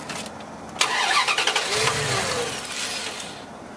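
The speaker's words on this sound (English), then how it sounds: "I will attempt to start my truck." A truck engine cranks and catches with a loud burst near the microphone, then runs roughly with uneven, sputtering pulses before dying away.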